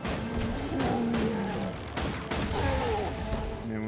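Rapid, dense gunfire from an Engineer character in the game Guild Wars 2, with bursts of shots and booming impacts layered over busy combat noise, loud and continuous.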